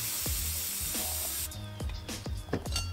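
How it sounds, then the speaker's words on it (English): Carburetor cleaner sprays onto a small Kohler engine carburetor, short close hissing blasts with handling knocks and clicks in between, and no speech. "Okay, now a little carb clean"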